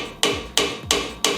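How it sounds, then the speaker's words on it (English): Hammer striking a screwdriver to loosen rust-seized brake screws on a Hyundai Elantra during a front brake pad and rotor job, four sharp, evenly spaced metallic taps, close and loud, with nothing else heard. "you have to hit them with a hammer sometimes"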